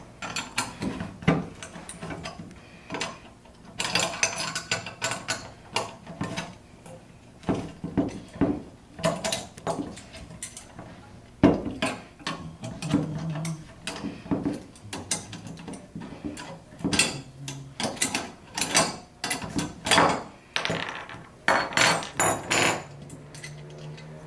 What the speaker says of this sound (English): here we're going to take the wall plate off of the mount for the installation